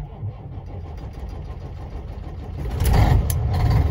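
A Volvo VNL truck engine cranks and catches on a cold, snowy morning, a low rumble swelling louder in the last second as it fires up near and alone.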